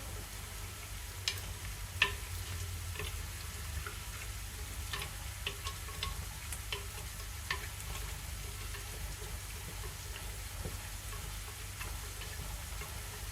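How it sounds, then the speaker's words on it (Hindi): Mutton frying in a pan for korma makes a faint, steady sizzle with a low hum beneath it and scattered small ticks and clicks throughout. "अब मैं इसे अच्छी तरह भून लूँगी, इसे 10 मिनट के लिए भून लेंगे।"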